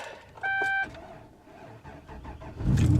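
The supercharged Hummer H2 truck starts with a short whirring, electrical crank. After a pause the engine fires and swells into a loud, low rumble at the end.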